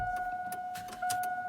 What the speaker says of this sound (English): Turn the car to on,